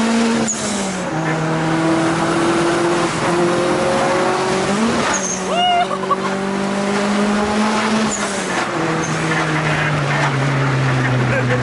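A Nissan with an SR20 engine accelerates hard through repeated gear changes, its loud engine note climbing in pitch, dropping at each shift and climbing again, close up with some cabin voices in the background.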